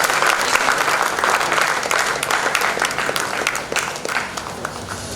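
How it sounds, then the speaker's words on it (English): A crowd at an engineering conference gives a long, loud round of applause as a professor takes the dais, a thick, continuous clatter of many hands that eases slightly toward the end. "Please give a big round of applause."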